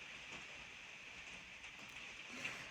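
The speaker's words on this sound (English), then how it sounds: "sitting in the conservatory listening to the rain" Steady rain heard from inside a conservatory, a soft continuous hiss with faint patter that holds evenly throughout, fairly quiet and uninterrupted, with no talking.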